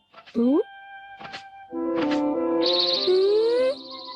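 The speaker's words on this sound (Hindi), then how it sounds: "अब तो चिड़ियों को चहचहाना भी अच्छी तरह सुनाई दे रहा है।" Cartoon birds chirp in a few short, bright calls followed by a sustained tweeting tone, with a character's voice speaking over parts of it.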